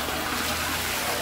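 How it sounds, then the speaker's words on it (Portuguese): Water gushes hard from a greenhouse pipe at a high flow rate, a loud, continuous rushing hiss that fills the short moment without pause. "é água com força"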